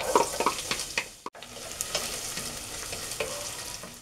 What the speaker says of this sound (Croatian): ja sam sipala ovde malo ulja i tu ćemo propržiti šargarepu i crni luk